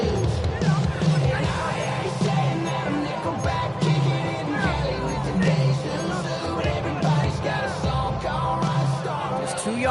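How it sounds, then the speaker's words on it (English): A stadium crowd roars and yells after a football touchdown, a loud, sustained wash of cheering and babble with occasional whoops. "you could hear the roar of the crowd celebrating the touchdown"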